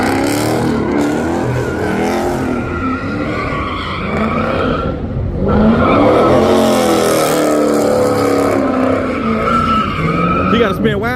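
A Dodge Scat Pack doing a burnout, its engine roaring loud and steady while the tires spin and squeal continuously for the whole stretch, close up, with people talking over it.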